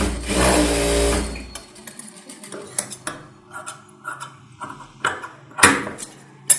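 A sewing machine stitches a 41-42 inch blouse in one loud, close burst at the start, followed by scattered small clicks and handling knocks.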